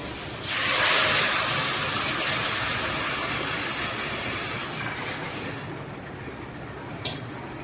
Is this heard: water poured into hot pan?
yes